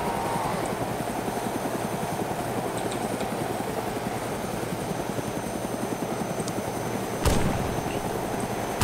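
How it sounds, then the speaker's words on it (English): Helicopter touching down in the video game Dynamic Zombie Sandbox, its rotor thudding in a fast, steady chop near and loud, with a sharp burst near the end. "we're putting down the chopper, please do not fire."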